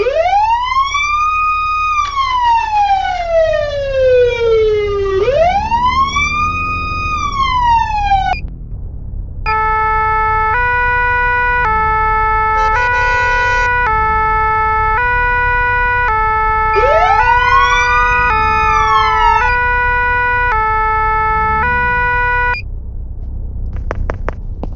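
A loud, cheap electronic emergency vehicle siren sweeps up and down in long wails, then switches to a steady two-tone pattern before wailing again; thin and tinny.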